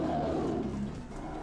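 A horrible, frightening roar from an unknown creature, somewhere between a lion and a bear, fills a dense, sustained burst of about a second and a half with no talk over it.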